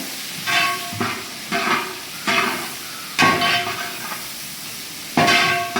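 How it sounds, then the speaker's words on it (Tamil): Long-sliced onions go into hot oil for Kerala kadalai curry and get stirred through the tempering, steady sizzling broken by about six scraping stir strokes at a regular pace, close and fairly loud, no voices. "நீட்டு நீட்டாக கட் பண்ணி வச்சுருக்கிற வெங்காயத்தை சேர்த்துக்கிறோம் நல்லா சிந்தி விட்டுறேன்"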